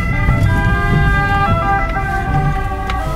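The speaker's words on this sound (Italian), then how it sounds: "L'ambulanza, devo farle passare." An ambulance siren wails loudly and continuously, passing close by on a street in Fuorigrotta, Naples, and heard from a car pulled over to let it through.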